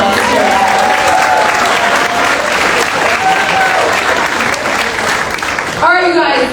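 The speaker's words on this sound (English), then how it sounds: "Let's give Jack a big round of applause here" Loud, close applause from a crowd at a charity fundraising gala honoring a raffle winner, a dense steady wash of clapping with a few whistles, breaking off near the end.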